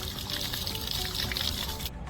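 Pressurised water from a home water pump rushes and splashes steadily from a tap on a second floor, a continuous loud hiss and gush that cuts off abruptly near the end.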